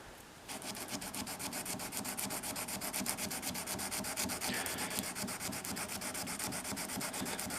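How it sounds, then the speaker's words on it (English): Steady rhythmic rasping of 150-grit sandpaper wrapped on a popsicle stick, rubbed back and forth along the steel shank of a Wright square-shank machinist screwdriver, close and continuous with no talk. "I'm going to sand with this 150"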